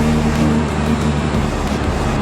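A Honda Integra Type R race car's engine drones loudly and steadily from inside the car while it drives, a continuous low hum with no talking.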